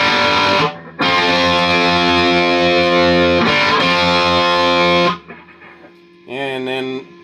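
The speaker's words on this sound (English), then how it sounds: "now we're on ultra gain." Heavily distorted electric guitar chords through a Marshall JCM 2000 Dual Super Lead on its ultra gain channel ring out loud and sustained, cut by short breaks, followed by a brief quieter distorted phrase.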